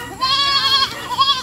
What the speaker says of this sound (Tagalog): So ito kasi yung kambing ng kapatid ko, at buntis na rin to.